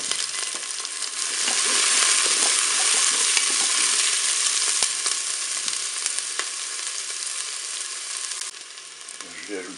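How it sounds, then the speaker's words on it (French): Onions and peppers fry in a preheated Cookeo multicooker with a steady crackling sizzle, stirred now and then, close and fairly loud with no talking. "Je vais pouvoir mettre mes oignons. Et ajouter mes poivrons."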